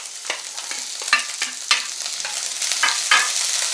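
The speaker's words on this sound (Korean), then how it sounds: "야채가 식용유에 잘 볶아지면 이렇게 고추하고 향이 좀 올라오고요" Vegetables and chili stir-fry in cooking oil in a pan, a bright close sizzle punctuated by repeated spatula clacks and scrapes in an uneven rhythm, with no talking.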